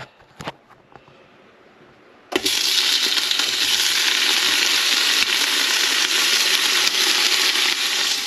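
Tofu hits a hot pan at about two seconds and a loud, steady sizzle of frying follows, continuing unbroken after a few small clicks at the start.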